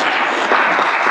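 A brief, dense burst of audience clapping at a European Union agencies conference session, steady and close throughout the short moment.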